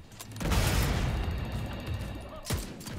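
Explosions and gunfire in the video game The Division 2: a dense, booming burst of rapid shots rumbles for a couple of seconds, followed by another sharp blast near the end.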